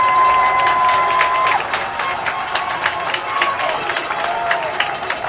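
Loud, sustained crowd noise at a high school football game in Fond du Lac, Kaukauna visiting, with cheering and shouting swelling continuously throughout and a whistle-like tone briefly audible early on.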